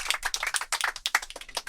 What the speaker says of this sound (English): let's just give our amazing driver down here a round of applause